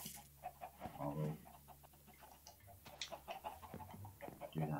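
Chickens from a Minecraft Stone Block 2 modpack cluck in quick irregular bursts, soft and fairly close, mixed with faint game background noise.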